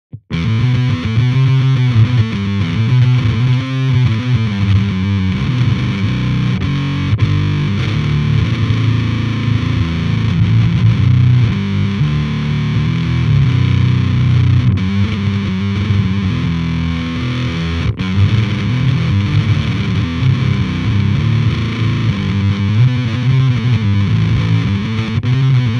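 Fuzzy, heavily distorted guitar through an Otto Audio Blown Out Wall pedal plays continuously, its buzzy tone choppy and semi-gated, loud and dense throughout with no voices.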